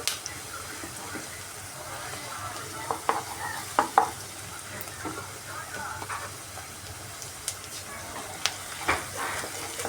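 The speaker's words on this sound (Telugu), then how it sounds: "అల్లం పేస్ట్ వేసుకొని ఒకసారి బాగా మళ్ళీ ఫ్రై చేయండి" Fish roe frying with ginger paste in a pan, a soft sizzle with repeated spatula stirs and scrapes against the metal, fairly quiet and close, with faint talk underneath.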